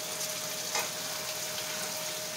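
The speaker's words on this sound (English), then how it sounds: "All we have to do is just go and stir it." Ackee and tuna fish fry in a pan with a steady, close hiss and crackle, with only a faint stir at one point and no voices.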